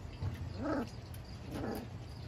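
Very young puppies, two short faint whimpers about a second apart over a low background hum.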